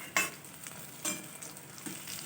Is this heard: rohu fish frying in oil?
yes